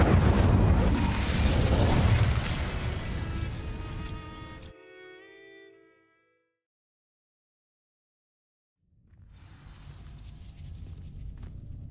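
In the Hogwarts Legacy video game, the Incendio fire spell bursts onto dry vines with a loud roaring whoosh that fades into a ringing tone, falls silent, then returns as a low crackling burn.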